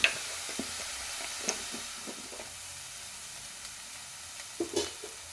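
Ginger-garlic paste and turmeric frying in a pan for a stuffed brinjal curry, a soft steady sizzle with occasional light taps and scrapes of stirring, a couple of sharper clicks near the end.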